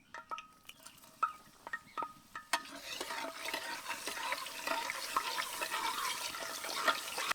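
Crushed garlic and lentils hit hot oil with mustard seeds and cumin in a North Karnataka kitchen, starting with a few scattered spoon taps and clinks, then settling into a steady close sizzle and crackle.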